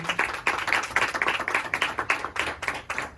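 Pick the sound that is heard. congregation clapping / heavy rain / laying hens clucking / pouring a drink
congregation clapping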